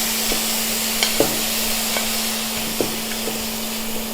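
Meat searing in a frying pan gives off a steady hiss of sizzling with a few scattered pops and clicks of stirring, close and constant over a low hum.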